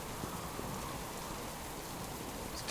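Steady rain falls in the survival game Subsistence, a continuous soft hiss with no thunder or voices, faint and even throughout.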